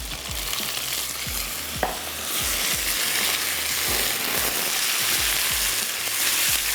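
Sliced lotus stem frying in a pan for beh gosht: a loud, continuous sizzle with a steady rhythm of spoon clanks and scrapes against the pan, no talking.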